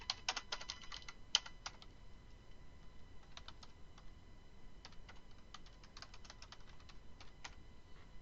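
Someone types an instant message on a computer keyboard, producing bursts of fast light key clicks with pauses between them, close and fairly quiet against a faint background hiss.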